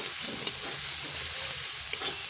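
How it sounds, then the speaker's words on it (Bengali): Garlic, tomato, turmeric and chili powder fry in a pan, giving a steady close sizzle with light stirring scrapes throughout and no voice. "একটু ভেজে নিই রসুনটা"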